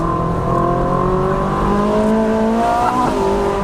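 A 2013 Ferrari 458 Spider engine revs loudly and steadily, its pitch rising and shifting as it accelerates, close and continuous with no talking.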